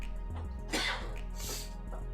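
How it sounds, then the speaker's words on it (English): A person with allergies coughs a few times in quick succession close to a microphone, short harsh bursts with a throat-clearing quality and no talk. "hopefully my coughs aren't coming too hard across the mic"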